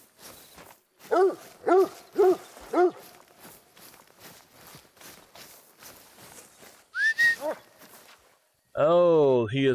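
A hunting dog in theHunter: Call of the Wild gives four quick barks in a row, with soft footsteps throughout. A couple more short calls follow, then a sustained, tonal, whistle-like sound near the end.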